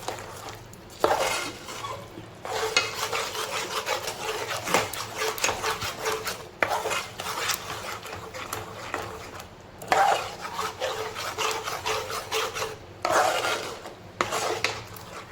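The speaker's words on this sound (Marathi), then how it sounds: "नुसतं जरा वेळ आपण फिरवलं तर आपली डाळ होऊन जाईल" Cooked chana dal and jaggery stirred in a pot for puran poli, heard as repeated close scraping and clattering strokes of a spoon against the pot, in bursts with short pauses and no talk.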